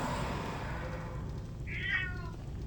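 A long-haired tabby Maine Coon cross cat, unhappy in hot weather, gives a single drawn-out meow near the end over a steady low background hum.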